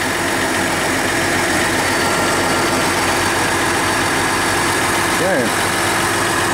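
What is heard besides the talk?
2020 3.0L Duramax diesel engine idling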